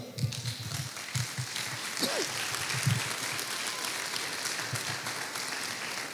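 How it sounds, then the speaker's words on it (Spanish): Applause from a church congregation, a steady wash of clapping with a few louder sharp claps, moderately distant and sustained throughout. "Den un aplauso al Señor."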